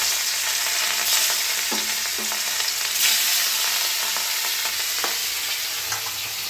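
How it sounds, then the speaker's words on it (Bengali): Fish frying in hot oil in a home kitchen, a steady dense sizzle with a few sharp spatters and light utensil clicks, close and continuous with no voices. "তেলটা গরম হয়ে গেছে, মাছগুলো ভেজে দিই।"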